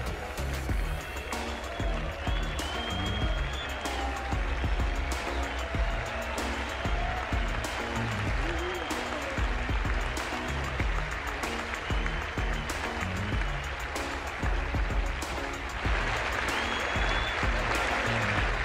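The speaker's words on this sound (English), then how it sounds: "Une partie du public siffle, l'autre applaudit." A tennis crowd at Roland-Garros applauds steadily while some spectators whistle, the mix dense and continuous throughout.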